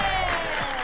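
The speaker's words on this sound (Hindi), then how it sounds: "जोरदार तालियां हो जाए।" Brief burst of steady clapping from a crowd cheering on women lined up for a lemon-and-spoon race at a sports day, dense and sustained throughout the short moment.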